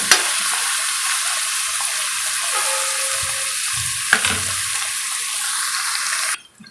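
Chopped onions sprinkled with salt fry in a pan with a loud, continuous sizzle, stirred now and then, before the sizzling suddenly cuts off at the end.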